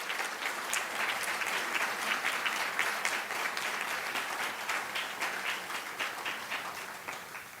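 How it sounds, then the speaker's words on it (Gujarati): An indoor audience at a book-launch ceremony breaks into sustained applause, many hands clapping in a dense, even patter that softens slightly toward the end. "ખૂબ જોરદાર તાળીઓથી આપણે વૈદેહીબેનનું અભિવાદન કરીએ."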